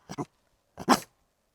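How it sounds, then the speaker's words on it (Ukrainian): A dog barks on command outdoors in a village, two quick close barks followed after a pause by a louder single bark, with no talk over them. "показав, що ти вмієш гавкати"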